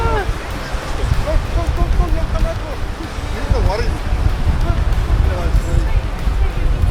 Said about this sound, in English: Wave going into the river.